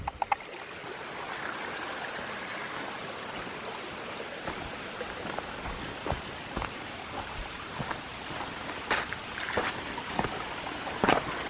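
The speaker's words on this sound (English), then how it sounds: "I can hear water rushing by at this joint" Water rushes through a micro hydro pipe near a joint during a pressure test, a steady, faint broadband hiss like a stream, dotted with small clicks and taps.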